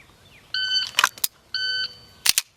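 A handgun is drawn quickly from a holster twice, each time right after an electronic shot-timer beep, with sharp clacks and rustles close to the microphone.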